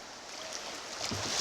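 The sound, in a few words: creek rapids while paddling down Antietam Creek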